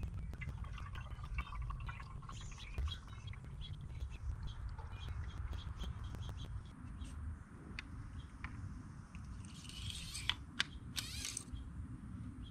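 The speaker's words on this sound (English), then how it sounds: "putting the oil back in it. So we're gonna go ahead and put this entire 5-quart jug in here" Motor oil pours steadily from a 5-quart jug into an engine's fill opening, a continuous low gurgling flow with scattered small clicks and knocks, then a couple of brief hissy bursts near the end.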